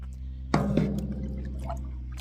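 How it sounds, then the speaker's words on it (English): Water scooped from a tub with a bowl, a sudden splashy slosh followed by dripping and trickling over a steady low hum. "see this tub? I'm emptying it with a bowl."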